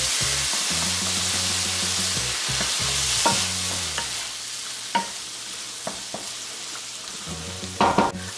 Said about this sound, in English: I'm going to stir this well and saute this for another couple of minutes.